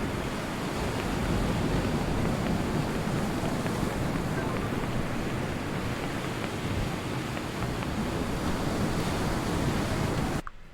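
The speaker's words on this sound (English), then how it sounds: "I can't hear it over the sound effects of water" Continuous rushing, surf-like water effects from the video game Paradise Killer, loud and steady throughout with a windy wash, cutting off abruptly at the end.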